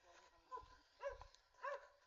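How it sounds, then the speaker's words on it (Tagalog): Three short barks ring out about half a second apart, faint and somewhat distant, over a quiet background. "Yan, may mga aso guys."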